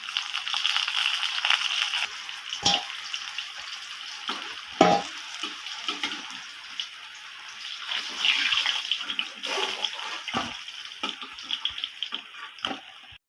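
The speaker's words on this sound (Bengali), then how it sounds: "আরেকবার আমি গ্যাসটা লো ফ্লেমে করে ভাজা হতে দেব মাছটাকে" Pieces of rohu fish fry in oil in a pan over a low flame for a home-style curry with brinjal and potato, a close, continuous bubbling sizzle with occasional clinks of utensils.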